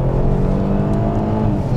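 A Kia Stinger GT accelerating hard, heard from inside the cabin as a loud, steady low engine roar with a rising drone that fills the whole short stretch.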